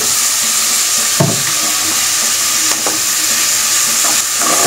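Onion frying in oil, a loud close continuous sizzle with occasional sharper crackles and a few clanks of a utensil against the pan, steady throughout without speech.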